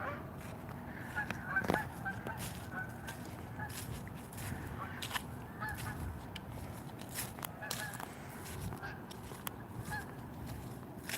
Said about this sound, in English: Wow, the geese got scared.